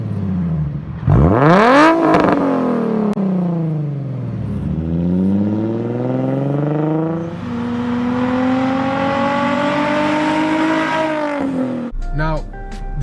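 A Nissan 350Z with a VQ engine and a Tomei single exit exhaust revs loudly through several sweeping rises and falls, then holds a high drone before cutting off, with an engine up close and no talk.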